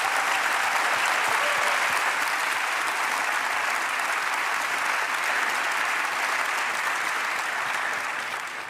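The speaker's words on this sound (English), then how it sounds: "You're allowed to clap." A festival audience at the Gare Maritime breaks into sustained, loud applause, a dense even wash of clapping that holds steady for several seconds before easing slightly at the end.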